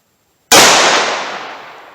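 A single sharp .38 Special gunshot fired with a 90 grain bullet cracks out loud and close after a moment of silence, then its ringing echo tails away slowly.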